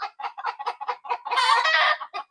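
Frightened chickens cluck in quick, close bursts, with a louder squawking flurry midway before single clucks resume, no people talking.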